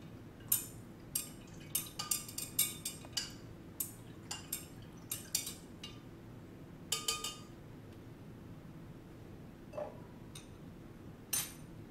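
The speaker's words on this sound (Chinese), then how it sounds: "用我们的搅拌棒呢，" A glass rod stirring tap water in a glass container for a water purifier demonstration, with soft repeated clinks and ticks of rod against glass in irregular bursts, close and fairly quiet.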